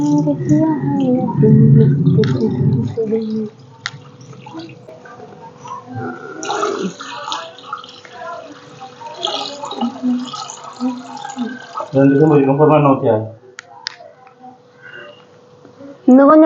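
Water is poured into a steaming pot while kozhukattai, sweet rice dumplings for Thirukarthigai, are cooked. The soft splashing runs between stretches of people talking close by.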